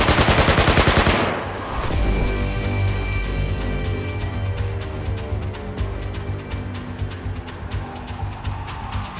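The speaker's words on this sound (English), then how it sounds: "They start shooting me." Battlefield 4 gunfire: a fast, loud rattling burst of automatic machine-gun fire up close, then a long ringing tail with repeated single shots and quieter distant rounds continuing.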